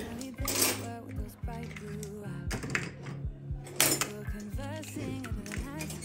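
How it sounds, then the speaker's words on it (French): Eggs cracked into a mixing bowl, with a series of sharp taps and clinks of shell against the bowl and utensils, irregular and close, alongside light kitchen clatter. "Dans mon saladier, je viens casser mes œufs."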